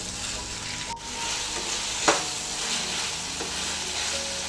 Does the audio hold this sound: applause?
no